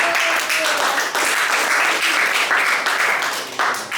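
A crowd applauding steadily and loudly, dense clapping that fills the whole stretch without a break.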